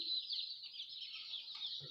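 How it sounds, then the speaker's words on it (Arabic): Dense, high-pitched peeping fills the air from many chicks and ducklings raised indoors in a room. Their chatter runs continuously at close range, with a faint low sound near the end. "أنا جبت الكتاكيت دي والبط"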